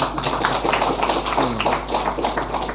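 Dense applause from an audience at a Hindu community gathering, continuous rapid clapping at steady loudness over a low hum, with no voices.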